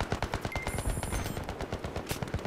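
Rapid automatic fire from an L85 assault rifle in Battlefield 3, a dense, near stream of cracking shots running almost continuously, with no talk over it.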